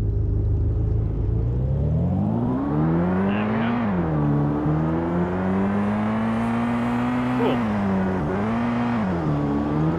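A car engine in a Unity driving game revs up and down in smooth swells, a steady loud synthetic drone with a few quick dips as the pitch shifts, with no voices over it.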